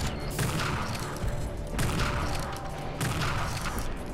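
Sniper rifle shots crack in Unreal Tournament 2004 during a sniper battle, coming as three sharp reports spaced roughly a second and a half apart over a steady game-noise background.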